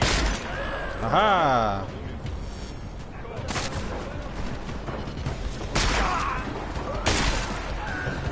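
A shotgun in Deus Ex firing a few loud, sharp blasts spaced out over several seconds, amid in-game noise, with a voice talking briefly.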